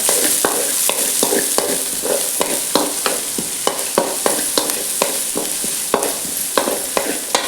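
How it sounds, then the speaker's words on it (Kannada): Chopped onion fries in oil for sabudana idli, with a steady close sizzle and a spatula scraping the pan in quick, regular strokes throughout. "ಒಂದು ನೀರುಳ್ಳಿ ಎಣ್ಣೆ ಒಂಚೂರು ಫ್ರೈ ಮಾಡ್ಕೊಂಡು"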